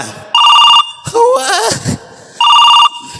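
Telephone ringtone chiming loudly in two identical electronic bursts, with a warbling, goat-like tone between them.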